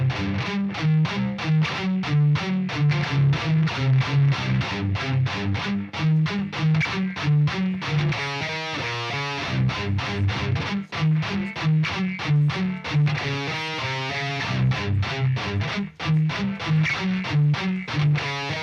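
Heavily distorted electric guitar plays the bridge of a song, a dense, loud chugging riff with steady driving rhythm and brief dips, continuous for the whole stretch with no talking.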